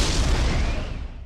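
A huge video-game explosion as the creature Metroid Prime blows apart in Metroid Prime, one sustained deep rumbling blast that fades slowly, loud and close, with no voices.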